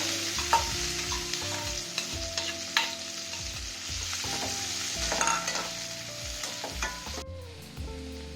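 Chopped onions and green chillies frying in oil for a spicy egg onion roast, a steady close sizzle broken by repeated scraping stirs of a spatula against the pan, with no voices.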